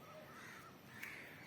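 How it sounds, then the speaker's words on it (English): Crows cawing outdoors, a single harsh caw standing out over faint steady background noise. "The birds are flying there."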